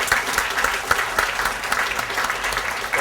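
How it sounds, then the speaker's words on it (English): A round of applause at a PhD commencement luncheon for a departing school director, many hands clapping close and lively, with individual claps popping out of the steady patter. "I would first of all like to offer a round of applause to Larry Gross for his service as director of the school."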